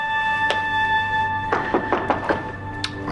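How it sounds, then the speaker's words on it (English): Knocking on a door in a TV soap scene, a single thud followed by a quick cluster of several knocks and a last lone rap, heard over a steady background hum. "I'm gonna get rid of whoever's knocking on that door."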